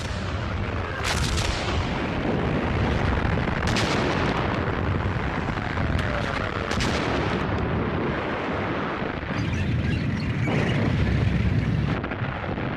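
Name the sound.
German artillery cannon fire in war documentary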